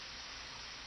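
Steady pouring rain in the video game Deadly Premonition, a constant even hiss of falling water, soft and continuous with no voices.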